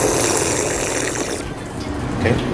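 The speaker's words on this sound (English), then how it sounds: "Connor, if you would please step up to the LK fountain and take a sip" Water from a building drinking fountain streams and splashes in a steady close gush, shifting briefly midway as someone drinks from it.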